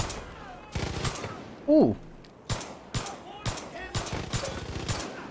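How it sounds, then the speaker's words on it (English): Widow Maker gun in Far Cry 5 fires slow, spaced shots, about six sharp cracks at a steady, unhurried pace, with a brief vocal exclamation early on. "This gun shoots kind of slow"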